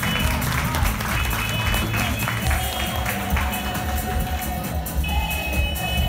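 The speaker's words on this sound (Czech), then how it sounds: "Děkuji a potlesk Teovi." An audience at a regional public science show claps for a boy named Teo after his gelatin-bear experiment, a close, dense burst of applause with sharp individual claps and a few voices mixed in.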